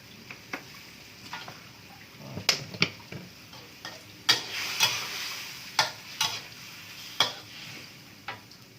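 Tofu stir-fried in a pan with sauce, a soft background sizzle broken by repeated sharp scrapes and clacks of a utensil against the pan in an uneven rhythm, close and moderately loud, with no voices.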